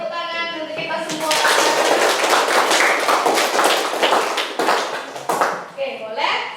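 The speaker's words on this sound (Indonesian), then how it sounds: "Oke, tepuk tangan untuk kita semua." A standing group of students in a classroom breaks into lively hand clapping after an opening focus exercise, loud and dense for several seconds before tapering off, with voices faintly audible around it.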